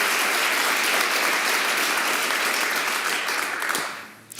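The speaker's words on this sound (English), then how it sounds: "Please give them a warm welcome, a warm applause." An audience at a literary talk on fiction and journalism at De Balie breaks into dense, sustained applause, loud and even throughout before tapering off at the end.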